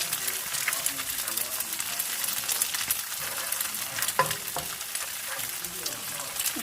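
Egg stirred in a hot pan while making stir-fried flat rice noodles: a continuous bright sizzle and frying hiss, steady throughout, with a few soft scrapes and taps of the utensil.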